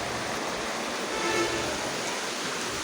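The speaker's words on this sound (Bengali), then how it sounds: "দেখেন আমার গাছগুলি কি সুন্দর বৃষ্টি পানি পাইতেছে" Steady night rain falls on garden plants, a continuous even hiss with no distinct drops or voices standing out.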